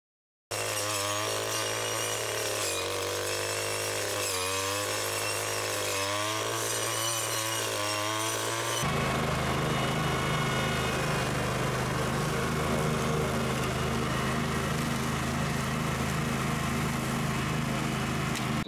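A Zenoah 36-volt battery-powered brush cutter cuts grass with a steady, close whine. The motor pitch dips and surges rhythmically for several seconds, then settles into a continuous higher-load drone.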